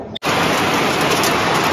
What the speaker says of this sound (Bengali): বৃষ্টি এসে গেছে দেখো।